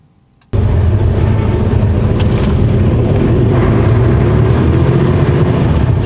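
A car engine surges in at about half a second and then holds a loud, steady roar close by for the rest of the stretch, with no voices, while heading for the works in Ingolstadt.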